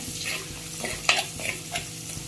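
Curry leaves and a green chili fry in hot oil, giving a close, steady sizzle broken by bright crackles and spatters, heard alone without speech.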